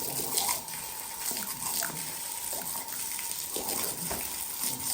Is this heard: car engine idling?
no